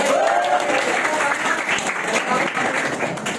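Students applauding in a classroom during an Islamic studies lesson, a steady burst of many hands clapping throughout with a voice briefly audible at the start.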